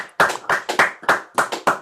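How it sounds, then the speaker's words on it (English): Audience applause heard over open microphones at an online university awards program, a burst of sharp, close hand claps in an uneven rapid rhythm, with no talking. "let's applaud out loud for all our awardees today"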